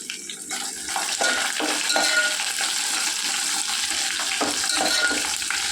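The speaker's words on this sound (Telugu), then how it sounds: "తాలింపు ఎర్రగా వేగాలి" Dried red chillies frying in hot oil for a tempering for aanabakaaya (bottle gourd) dal, a steady close sizzle with occasional stirring scrapes, no talking.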